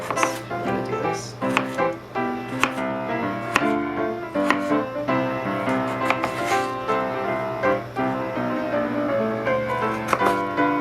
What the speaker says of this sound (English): Now, I'm going to dice these into pieces about that big.